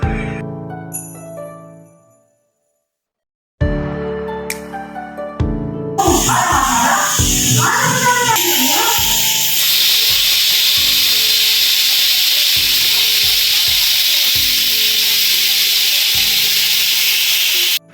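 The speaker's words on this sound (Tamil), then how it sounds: "இப்போ குக்கர் லிட்டை க்ளோஸ் பண்ணி ஒரு 7-8 விசில்ஸ் வரைக்கும் விடலாம்" A pressure cooker with mutton curry vents steam, a loud continuous hiss and whistle that follows some clinking and rubbing at the lid.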